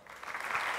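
An audience at the Skift Global Forum business conference applauds as MGM Resorts executive Lili Tomovich is welcomed to the stage: a brief, dense burst of clapping filling the room, swelling slightly at the end.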